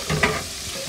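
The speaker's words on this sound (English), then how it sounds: "And I'm just frying it on medium flame." Seasoned rice fries in a pan over a medium flame, giving a short burst of soft sizzling with a brief stirring scrape, close by and with no talk.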